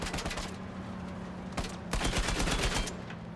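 Rapid bursts of gunfire crackle in quick succession, with a sharp isolated shot and a denser volley afterward, from the video game Uncharted 4.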